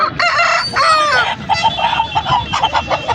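Roosters crow at a native chicken market in Mydukur, one loud close crow followed by clucking and calls from other fowl, with faint background noise.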